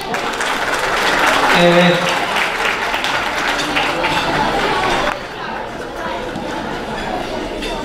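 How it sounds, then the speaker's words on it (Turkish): Audience applause for the choreographer at a dance academy's ballet gala night, a loud, dense clapping wash with a voice speaking briefly over it, dropping to a quieter level partway through. "Ceyda Hocamıza bir alkış."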